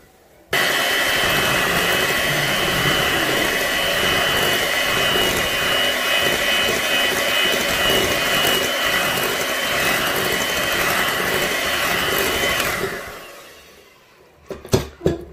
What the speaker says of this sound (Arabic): عاد غادي نحرك كاع المكونات